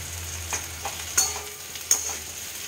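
A potato, bitter gourd and poppy seed fry is stirred in a pan with a soft, faint sizzle. A few sharp scraping clinks of the spatula stand out. No one speaks.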